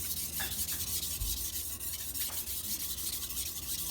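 A carbon steel Santoku knife is sharpened with close, steady rasping strokes repeating in a continuous scraping rhythm.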